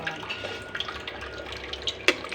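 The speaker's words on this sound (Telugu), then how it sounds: "ఇట్లా చల్లటి నీళ్ళు పోసేసుకోవాలి," Cold water runs over boiled vermicelli with a light trickling and dripping, scattered small splashes and one sharper clink, close and fairly quiet, no talking.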